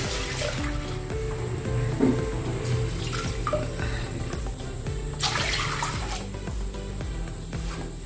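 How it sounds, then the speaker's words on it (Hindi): A steady stream of water pours and splashes into a pot for papad dough, running continuously with a fuller gush partway through. "मैं 1 कटोरी पानी इसमें डाल रही हूँ।"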